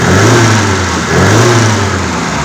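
BMW M10 four-cylinder engine on a single Weber carburettor, in a car with custom E24 parts, revs up and down near the microphone, a loud buzzing mid-range drone rising and falling in two swells with slightly chatty valve noise.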